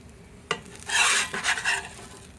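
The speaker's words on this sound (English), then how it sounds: "What I like to do is just scrape it just a little bit, so it's not so much work when it cools down." A metal scraper drags across a hot flat-top grill after cooking crab smashburgers: a sharp clack, then about two harsh rasping scrapes close up, with no voices.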